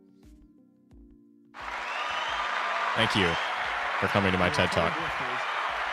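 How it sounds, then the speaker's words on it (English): Soundboard applause effect bursting in after someone speaks, a sustained crowd of clapping and cheering that keeps going loudly to the end, with talking over it. "My God, that applause is so long."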